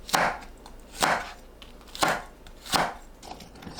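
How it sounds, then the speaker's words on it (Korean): Cheongyang chili peppers sliced diagonally with a knife on a board, four firm, evenly spaced chopping strokes about a second apart, close and clear, with faint smaller taps between and no speech. "청양고추를 어슷 썰어주세요."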